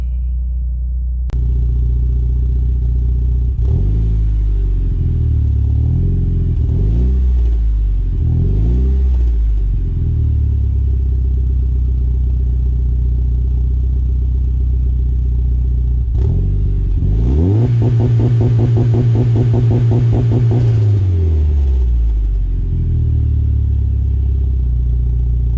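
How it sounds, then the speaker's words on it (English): The engine of a stationary 2004 Mitsubishi Lancer Evolution VIII SSL idles loudly nearby, rises through several revs, then bounces on the rev limiter with a rapid stuttering crackle for a few seconds before dropping back to idle. No one speaks. "So here is a result from the basic rev limiter for stationary."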